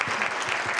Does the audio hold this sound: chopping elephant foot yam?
no